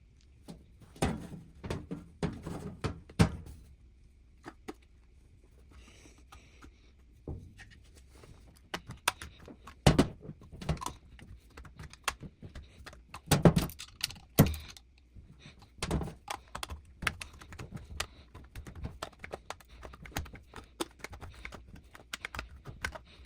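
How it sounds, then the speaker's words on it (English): Tin snips cutting through the metal casing of a spin-on oil filter, giving a run of sharp, irregular crunching snips and metallic clicks, close and fairly loud, with quieter pauses between bursts. "I use a pair of tin snips in case you're curious."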